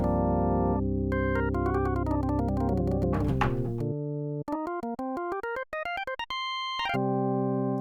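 A synthesized organ, built in Phase Plant, plays sustained chords and quick runs, each note opening with a sharp percussive key click, loud and close with no voices.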